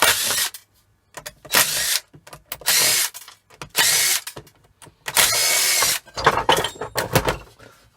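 A power driver zips out machine screws holding an aluminium plate on a scrapped control panel, in repeated short whirring bursts separated by pauses, close and fairly loud.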